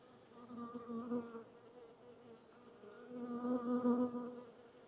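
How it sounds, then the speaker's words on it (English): Dense, steady buzzing of many honeybees droning together inside a hive during inspection, close by, swelling louder toward the end with no voices. "There's just too many bees in here."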